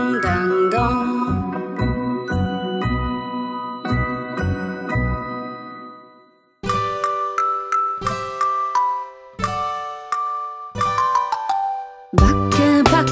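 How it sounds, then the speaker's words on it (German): Bright tinkling bell tones ring out in a children's sing-along song, loud, rhythmic chiming phrases repeating in bursts with short pauses between them and no voices. "Hörst du nicht die Glocken? Ding, dang, dong."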